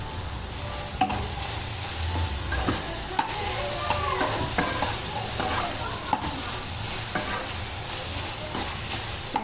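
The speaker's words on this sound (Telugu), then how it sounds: "టమాటా ముక్కలు మగ్గేంత వరకు మళ్ళీ ఒక పది నిమిషాలు మూత పెట్టి ఉడికించుకుందాం" Tomato pieces cooking in a pan for a cucumber chutney, frying with a steady close sizzle while a spoon scrapes and stirs at irregular intervals, no talking present.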